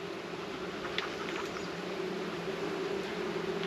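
Honeybees buzz at an open hive during a split as the flow begins, a steady low drone holding through the whole stretch with no talk.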